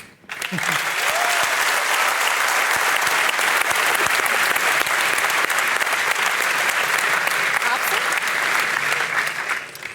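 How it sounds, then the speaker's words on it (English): A large arena crowd at The International 2018 Dota 2 championship applauds and cheers in a dense, continuous roar that holds loud and steady for the whole stretch. "thanks for everybody cheering"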